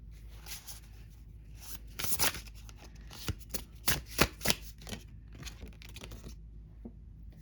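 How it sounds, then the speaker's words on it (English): Tarot cards are drawn from a deck, with soft, close papery shuffling, sliding and flicking sounds in uneven bursts against a quiet background. "We're going to pull 4 cards, and then we're going to have 5 oracle cards."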